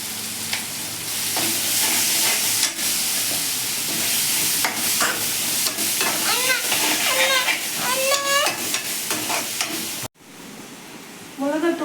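Onions and tomatoes sautéing in a pan with turmeric, a loud broad sizzle running steadily with scattered scrapes and clinks of a spoon, bird-like chirps rising briefly before the sound cuts and drops to a quieter hiss.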